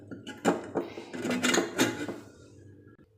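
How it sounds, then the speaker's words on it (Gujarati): A metal pressure cooker lid clanks shut in a home kitchen, with several sharp clatters and scrapes over a few seconds, then settling quiet. "કુકરનું ઢાંકણ બંધ કરી"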